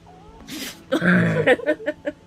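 A short, sharp sneeze bursts out close by, followed by a voice reacting with a few quick words.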